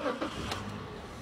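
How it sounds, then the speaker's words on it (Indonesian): A 2016 Toyota Avanza Veloz 1.5 engine cranks with a short whirring burst and settles into a low, steady idle rumble, fairly quiet and close, with no voices. "Saya akan nyalakan mesinnya."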